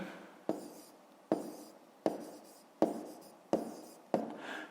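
Pen or pencil writing an answer on paper for a fifth-grade math exercise, six distinct scratchy strokes at an even pace, each one starting sharply and trailing off, close and fairly quiet, with no talk.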